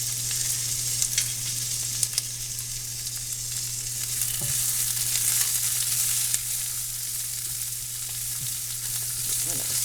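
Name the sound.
onions sautéing in a pan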